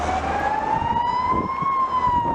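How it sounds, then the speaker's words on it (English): A Mercedes ambulance answering a call in Portugal wails a loud, steady siren, one tone that rises slowly and then eases back down, with road traffic rumbling underneath. "Nice Mercedes ambulance."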